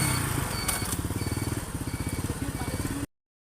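A motorcycle engine idles with a rapid, pulsing putter close by, throttled up briefly near the start before settling into an even rhythmic chug, then cutting off abruptly.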